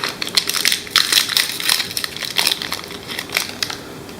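Plastic packaging of an ink cartridge for an HP Envy 6055e printer being torn and crinkled open up close, a run of sharp rustling, crackling bursts.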